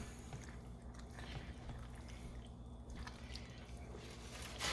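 Quiet, wet squishing and soft dripping as penne rosa pasta is stirred into its sauce in a pan, faint and close.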